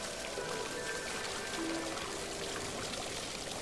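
Curtain of falling water pouring steadily in a spa setting, a soft continuous hiss and splash heard alone without any talk.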